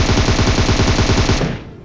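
Rapid automatic gunfire in a battle royale game, a loud, close, continuous burst of evenly spaced shots that cuts off and fades out after about a second and a half.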